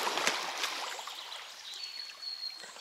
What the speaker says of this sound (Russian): Воды много, течение хорошее.